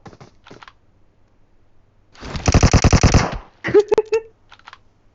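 PUBG Mobile gunfire: a rapid automatic burst of about a dozen sharp, evenly spaced shots, loud and close, followed by a few quicker cracks, with quiet scattered ticks before and after.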